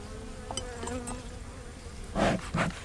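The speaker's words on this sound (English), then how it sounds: "That's a nice little cluster of bees." Honey bees clustered on five or six frames of a hive buzzing close by, a steady hum with brief louder swells of wingbeats near the end.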